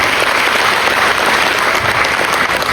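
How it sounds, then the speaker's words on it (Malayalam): Dense, steady applause from an audience at a beginners' business meeting in Kozhikode, loud and close, many hands clapping continuously through the whole short stretch. "നല്ലൊരു കയ്യടി"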